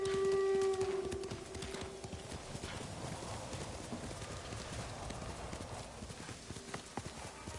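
Rapid hoofbeats of a galloping horse in Ghost of Tsushima clatter steadily throughout, with a brief whinny near the start and a faint ambient hum underneath.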